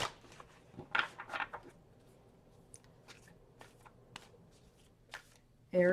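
Tarot cards riffled and shuffled by hand, a cluster of soft papery bursts early on followed by scattered light handling taps, quiet and close, with a voice starting at the very end.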